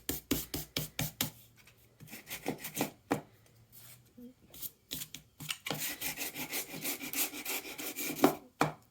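Medium grit sandpaper rubs in quick, rhythmic back-and-forth scratchy strokes, close and fairly soft, with a short pause partway through.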